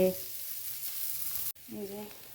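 Boiled potatoes fry in a pan with a steady, close, high hiss that runs nearly the whole time and dips briefly near the end, with short bits of voice at the start and finish.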